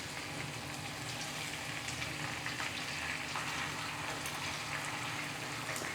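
Chicken pieces fry in hot oil over a high flame, giving a steady, close, crackling sizzle with faint pops throughout and no voices.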